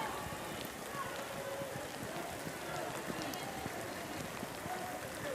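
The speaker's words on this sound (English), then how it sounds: "It is just persistent, heavy rain here." Persistent heavy rain pouring down on an outdoor field hockey pitch during a women's World Cup match in The Hague, a dense, continuous hiss of drops with scattered spatters, with a commentator's voice faintly underneath.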